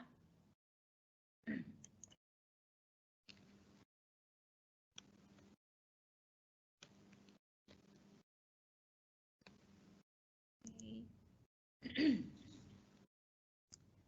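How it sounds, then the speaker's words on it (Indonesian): A woman presenting in an online teachers' webinar repeatedly clears her throat, short separate bursts spaced a second or two apart, close to the microphone, with near-silence between them. "Saya agak dehem-dehem Bapak Ibu ya."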